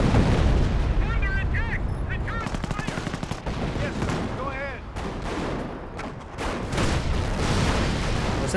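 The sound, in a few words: artillery barrage firing in Company of Heroes video game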